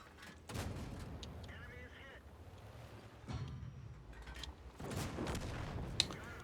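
Tank cannon fire in the World of Tanks video game, several booming low shots spaced apart over wind-like rumble and engine noise, fairly near, with a voice speaking over the action.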